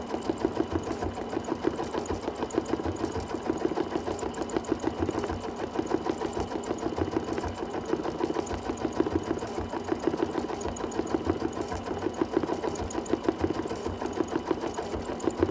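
An embroidery machine stitches a design onto a knit hat, a fast, even mechanical rattle of needle strokes that runs steady and close with no pauses.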